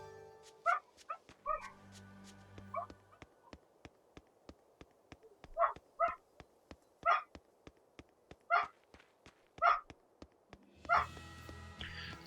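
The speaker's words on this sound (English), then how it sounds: "Dogs." Dogs bark in the video game Tales of Berseria, a series of sharp, evenly spaced barks and yips repeating over several seconds with no talk, some louder and closer than others.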